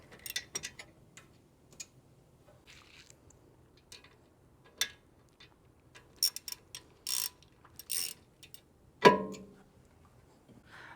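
Brake caliper bolts being worked loose on a disc brake, with scattered ratchet clicks and light metallic ticks in short irregular bursts, close but fairly quiet against near silence.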